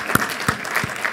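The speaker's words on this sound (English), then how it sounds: "yes, we can clap for Lorna." An audience claps at a formal education speech, a thin scattering of hand claps coming in a few distinct bursts at moderate distance.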